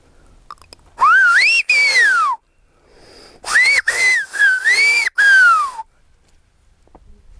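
A person whistles Silbo, the whistled language of Gran Canaria, in two loud, close bursts of sliding, warbling notes broken into short phrases, with quiet between.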